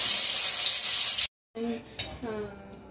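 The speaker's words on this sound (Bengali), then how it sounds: "সাদা জিরে দিয়ে দিলাম, তেজপাতা ফোড়ন দিয়ে দিলাম" Cumin seeds and bay leaf tempering in hot oil for chicken kosha, a loud bright sizzle that cuts off abruptly, then returns as softer crackling under a person talking.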